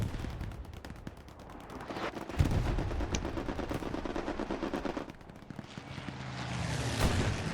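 Sustained automatic gunfire from a strafing run in Hell Let Loose, with dense rapid bursts of shots and heavy impacts rolling on without pause, loud and continuous throughout.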